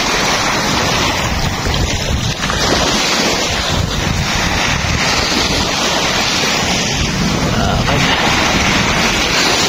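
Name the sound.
sea waves on the white sand beach of Mantigue Island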